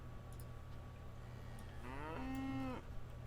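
Cattle moo in the train game Railroads Online: a single drawn-out moo that rises and then holds, heard over a constant low background hum with faint clicks.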